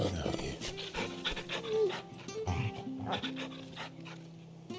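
A companion dog in the video game Final Fantasy XVI pants in quick, breathy bursts with a few soft whimpers, close and fairly quiet over a low tonal game soundtrack.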